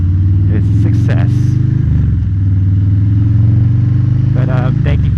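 A 2020 Harley-Davidson Low Rider S motorcycle rides at night, its steady low engine drone continuous throughout with brief rises in revs; no voice is heard.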